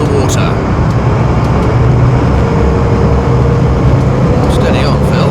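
A World War II-era high speed launch (HSL) driven by modern diesels of over 1,200 horsepower, climbing onto the plane at around 13–14 knots: a loud, steady, close engine roar with rushing water throughout.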